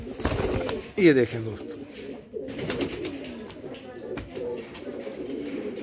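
Tonk Kasni pigeons cooing at close range, low rolling coos and a brief louder burst near the start, with someone talking over and between the calls.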